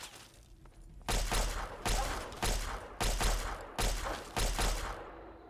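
Heavy-weapon gunfire in Fallout 3 sounds as five or six loud, booming bursts spaced under a second apart, each with a deep thump and a short ringing tail, followed by a brief quiet hum.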